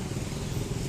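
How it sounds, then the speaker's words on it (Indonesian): Motorcycle engines run in steady traffic on HR Rasuna Said street, a loud, continuous rumble close by for under a second. "Banyak motor."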